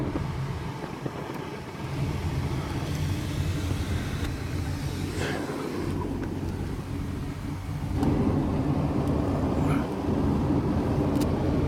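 Heater blower fan of a Mk3 Ford Escort blowing hard through a newly fitted heater matrix, a loud steady rushing roar that strengthens partway through and carries on without talk.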